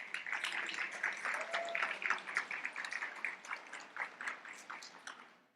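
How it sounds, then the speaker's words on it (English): An audience at a leadership institute demo day applauds the mentors with dense, sustained clapping that carries on steadily for several seconds, with no talking over it. "Please give those mentors a round of applause"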